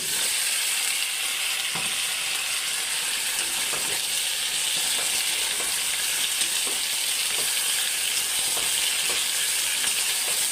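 Potatoes hit hot oil with already fried onions in a village-style spicy potato dish, producing a loud, continuous sizzle with occasional clicks and stirring noises up close.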